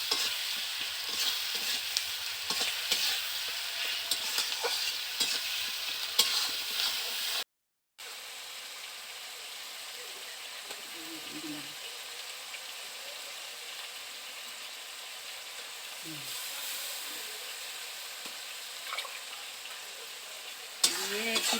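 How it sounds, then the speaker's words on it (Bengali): Onion fries with salt in a pan for a chicken curry, a continuous crackling sizzle with intermittent stirring scrapes, close and moderately quiet, briefly cut off midway before resuming. "লবণ দিয়ে একটু ভাজতে হবে পেঁয়াজটা, যাতে একটু নরম হবে"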